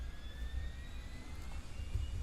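Jet engine spools up on an INIbuilds A340 airliner in Microsoft Flight Simulator 2024, a rising whine over a steady low rumble, continuous and moderately loud with no talk.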